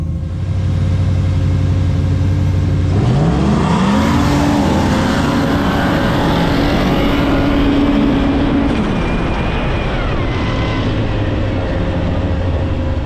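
A 500-horsepower turbo Polaris RZR Pro R and a built big-turbo Can-Am X3 drag race, producing a loud, continuous engine roar whose pitch climbs sharply under acceleration, holds, then drops as the run ends.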